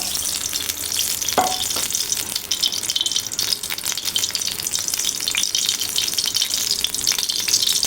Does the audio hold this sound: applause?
no